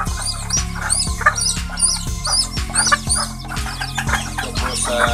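Serama bantam hens and their chicks cluck and cheep in a busy backyard, with steady overlapping clucks and high peeps close by, plus a faint rooster crow.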